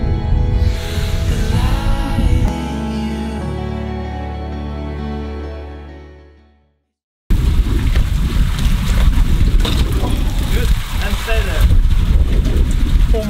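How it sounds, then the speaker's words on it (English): Strong wind roars outdoors at the Saltstraumen tidal current near Bodø, loud and close with heavy gusting buffeting the microphone, cutting out briefly midway before resuming just as forcefully. "The wind is blowing the clouds away, literally in front of our faces."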